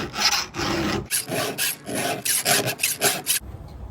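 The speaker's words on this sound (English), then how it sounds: "the deeper you bring that file back into this, the more aggressive it's gonna be too." Steady rasping strokes of a file working a pole saw chain, repeated back-and-forth passes close up and fairly loud with brief gaps between strokes, no talking.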